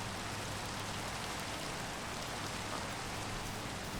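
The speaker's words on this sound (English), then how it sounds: "enjoy the ambient sounds of the rain and the pigs" Steady, soft rain falls in the Minecraft video game world, a faint, even hiss with no breaks or other sounds.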